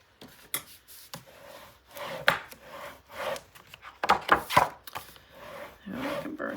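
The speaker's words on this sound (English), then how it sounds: "Just a gentle rub." Paper is rubbed by hand onto a scrapbook album page, giving soft scuffing strokes in uneven bursts, a few louder swipes near the middle, close and quiet with no talking.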